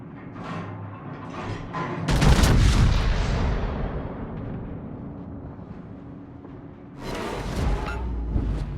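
Warship main guns fire in a naval combat video game, a heavy booming salvo that rolls and decays, followed by another loud blast, amid game effects.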